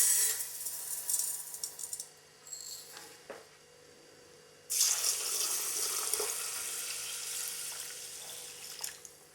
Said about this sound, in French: je vais mettre 1200 ml d'eau pour les 600 g de riz